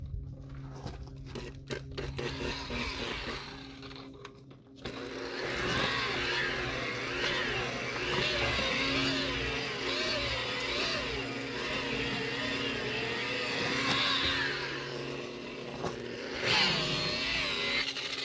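A rotary buffer polishes boat gelcoat to a swirl-free finish with a steady, loud motor whine and grinding hum. A brief, lighter start gives way to a sustained run that stays close and even, with no voices.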